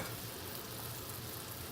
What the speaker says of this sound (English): the soup has been boiling away for about 15 minutes